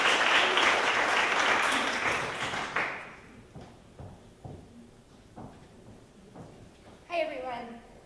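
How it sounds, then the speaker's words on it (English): Audience applause at a student environmental awareness event, loud and dense for about three seconds, then trailing off into scattered claps and room noise before a voice starts speaking. "So if we give her another round of applause."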